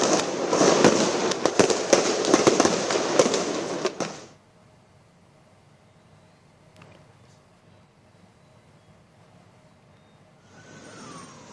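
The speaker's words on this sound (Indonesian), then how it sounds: "Polisi sempat melepaskan tembakan gas air mata untuk membubarkan massa" Police fire tear gas shots to break up a street protest against the regional election law revision, a dense burst of sharp pops and bangs amid crowd noise for about four seconds, then near quiet with a faint distant rumble.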